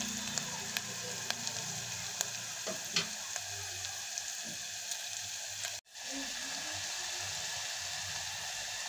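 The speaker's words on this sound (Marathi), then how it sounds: "कांदा लाल झाल्यानंतर आपण हे लसूण वाटून घेतलेला आहे, कुटला आहे चांगला, तो पण याच्यामध्ये परतून घ्यायचा आहे" Crushed garlic and onion fry in oil in a pan with a continuous, even sizzle and light crackles, broken by one brief dropout partway through.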